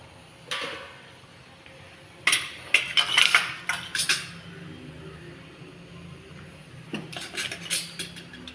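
Raw mango pieces dropped into a thick, half-reduced rock fish curry in a pot, giving a few clinking, clattering knocks of utensil against the pot, with quiet pauses between them.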